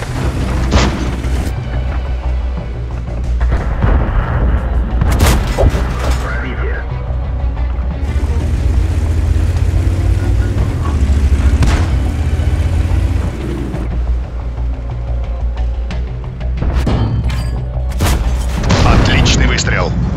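Tank cannon shots in a tank combat video game with a Tiger (P) tank, loud booming blasts fired several times at irregular intervals with rumbling engine noise and in-game voice lines between them.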